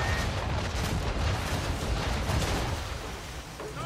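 Naval cannon fire from a sailing warship in Assassin's Creed 3, a dense, steady barrage of booming blasts rolling together without a break, loud and close.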